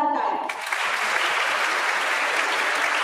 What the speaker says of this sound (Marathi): सगळ्यांच्या एकदा जोरदार टाळ्या